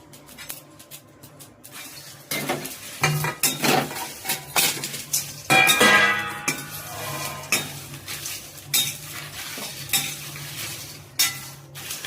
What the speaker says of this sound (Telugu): వీటికి సంబంధించినవన్నీ ఇవన్నీ కొంచెం దోరగా ఫ్రై చేసుకుందాం మనం